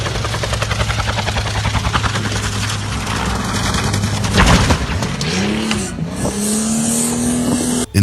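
A loud, steady helicopter engine drone with rotor throbbing, joined by a rising whine and a brief sharp burst near the end as the pilot loses control.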